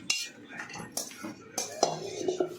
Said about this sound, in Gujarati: વાડકીની મદદથી છે ને તેને આ રીતે ફેલાવી દેવાનું